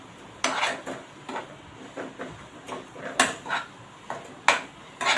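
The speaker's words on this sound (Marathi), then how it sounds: "याच्यामध्ये चवीनुसार मीठ घालूया घालून मिक्स करूया" A spoon stirs and mixes a potato filling with salt in a pan over a slow flame for bread rolls, making repeated scraping clinks and taps against the metal in an irregular rhythm, close and clear, with no talking.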